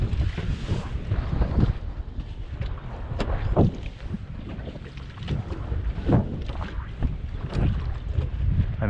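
The bigger outboard motor of a fishing boat runs on open water, a steady low drone mixed with heavy wind buffeting and splashing throughout.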